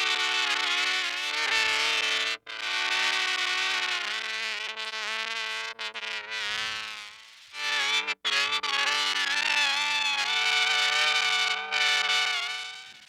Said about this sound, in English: Here's the Gen Loss.